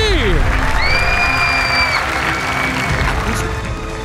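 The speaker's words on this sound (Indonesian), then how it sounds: "Semua tepuk tangan untuk Rocky." Studio audience applauding and cheering for an escape stunt involving an ice-filled aquarium box, with continuous crowd clapping and shouts, whistle-like tones and voices mixed in.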